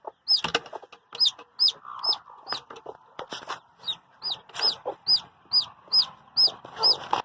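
Hens cluck repeatedly up close on a farm, with a run of short, rhythmic clucks and higher squawks following one another steadily.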